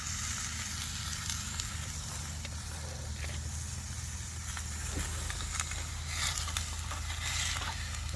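Beef stir fry frying in a pan with no oil, a steady close sizzle with scattered faint pops and crackles, continuous throughout with no talk over it.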